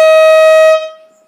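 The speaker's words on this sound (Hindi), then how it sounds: "ये पहले वाला हॉर्न भी ठीक था, लेकिन हमें उसमें मज़ा नहीं आया, इसलिए हमने ये लाउड वाला लगाया।" A loud new horn fitted to a Kubota MU 5501 tractor blasts once, close and steady for most of a second, then cuts off with a brief fading tail.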